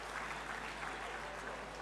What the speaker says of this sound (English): you guys haven't even seen the faculty yet, and you're clapping